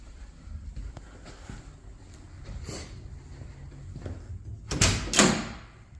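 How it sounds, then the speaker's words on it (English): Half door on a Jeep CJ8 fitted with YJ half doors, opened with a few faint clicks and rattles followed by two louder latch and hinge clunks near the end, heard up close outdoors with light wind. "I'll walk around and show you what the door looks like open here."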